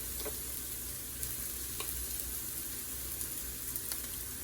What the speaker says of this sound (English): So my fire is at medium right now, medium high. I'm going to slowly put in my rice.